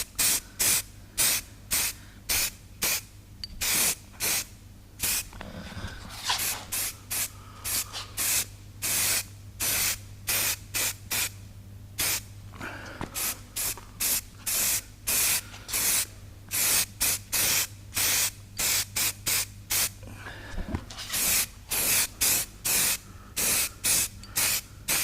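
Aerosol can spraying satin black paint onto a Toyota Corolla Verso wiper arm: many short hissing bursts and a few longer sprays in an irregular rhythm, close and loud with a low steady hum behind and no talking.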